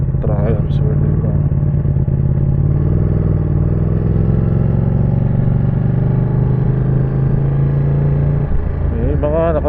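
Several motorcycles, including Triumphs, pass by on a road in good weather, a steady loud engine drone with rising whines near the start and end, and voices talking over it.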